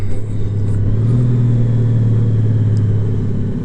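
A Honda Gold Wing DCT touring motorcycle in sports mode gives a loud, close engine drone with a steady low hum and a slight rise as it pulls, recorded on the move with no talking.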